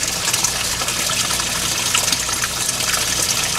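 Water gushing and splashing steadily in a lava rock aquaponics tank, a continuous close rush of flowing liquid with no voices.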